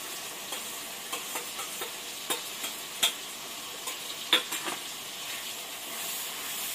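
Onion, ginger, garlic and dried red chillies sautéing in a pan, a steady soft sizzle broken by repeated light stirring scrapes, close and alone.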